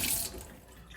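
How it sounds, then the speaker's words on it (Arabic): Whey drains from a batch of homemade cheese that began as a yogurt attempt, making a soft, steady trickle of running water, faint and close, with no voices. "شوفوا المي كيف تنزل منه، هي مصل، هي اسمها مصل المي"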